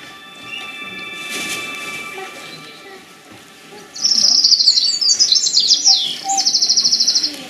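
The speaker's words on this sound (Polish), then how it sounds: "ptak prawdziwy nagle zjawił się." Bird song played as a stage sound effect for the nightingale in an amateur theatre performance at a community centre in Zambrów, Poland: bright, rapid chirping trills enter halfway through and repeat in quick bursts over a quieter room background.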